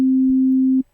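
Pure steady sine tone from the Operator synth in Ableton Live, a single sustained low note held loud and clean for most of a second before cutting off abruptly.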